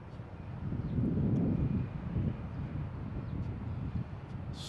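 A JetBlue jet airliner comes in to land at Boston Logan, its engine rumble swelling faintly in the distance and then fading, with wind noise at the microphone and no talk.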